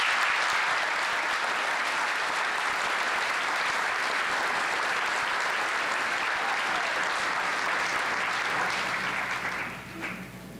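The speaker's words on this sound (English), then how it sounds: "Can I please have a round of applause?" An audience at a high school class of 2021 graduation ceremony applauds in a steady, full wash of clapping that holds for about ten seconds before dying away.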